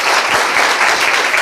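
Loud, dense applause from a church congregation clapping for Jesus during a Hindi worship service, a steady wash of many hands with no pause.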